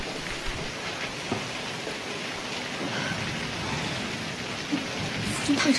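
Heavy rain pours down steadily, a dense, even hiss that fills the whole clip at moderate loudness, with scattered drops and small splashes standing out now and then and no speech.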